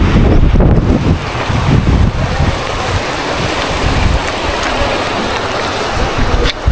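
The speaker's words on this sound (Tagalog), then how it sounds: "Medyo malalaki rin yung alon dito." Heavy wind buffets the microphone with a constant roar while rough surf crashes and churns underneath, loud and close throughout, during Typhoon Pepito on the coast at Calauag, Philippines.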